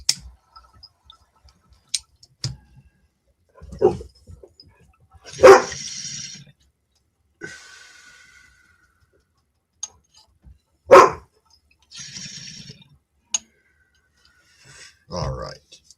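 A dog barks and whines indoors in short scattered bursts separated by quiet, with clicks and small handling noises between them.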